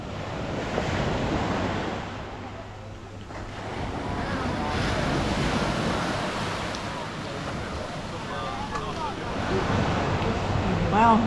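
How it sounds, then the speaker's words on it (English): Ocean surf breaking along the shore of Elba Island in Tuscany, a broad rushing roar that swells and recedes, heavy wind buffeting the microphone and a voice briefly heard over it. "look at the waves today"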